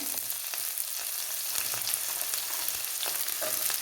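Shallots and curry leaves sizzle steadily in hot oil in a pan for a Kerala pork perattu, a continuous bright frying hiss with faint crackles and occasional stirring clicks, close and alone without voices.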